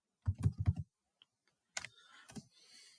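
A password is tapped out on a computer keyboard in a quick run of close keystrokes, then a pause, followed by a couple of louder clicks and a soft rustle.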